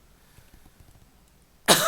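After near silence, a single sharp cough bursts out abruptly at the very end, close and loud.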